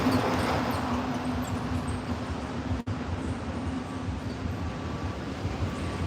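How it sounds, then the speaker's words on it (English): Subway train rumbling below a street on the Upper West Side of New York City: a continuous low, broad roar fills the scene at moderate level, with no speech. "Oh, I can hear the subway below us."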